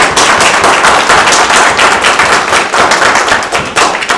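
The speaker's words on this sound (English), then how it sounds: "I want another round of applause for our amazing students and their families" A ceremony audience at a school district's student-of-the-month presentation gives loud, dense, sustained applause for the honored students and their families, with no talk over it.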